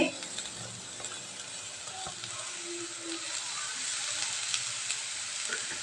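Grated cauliflower frying with onions in a pan gives a steady, close sizzle with occasional scraping stir sounds. No one speaks.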